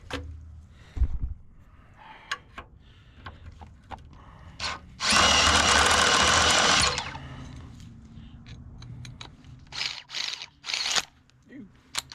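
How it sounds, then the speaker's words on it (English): A power drill runs in one loud, continuous burst of about two seconds while working on a 2006 Dodge 2500 5.7 Hemi truck, with scattered clicks, knocks and handling noise before and after. "Look over here where I'm drilling."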